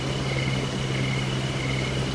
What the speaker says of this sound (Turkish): Bir helikopter sesi duydum şu anda.